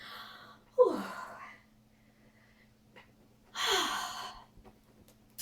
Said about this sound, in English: You'll have to excuse me while I catch me breath